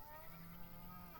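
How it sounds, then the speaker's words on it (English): Cattle being delivered in the farming video game Farm Manager 2021 let out a single drawn-out moo, a steady low tonal call held for about a second with no talking. "So there's the cows. They're being delivered."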